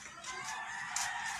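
A rooster crows once in a short, hoarse call near a dog-training session, nearby and moderately loud with no talk over it.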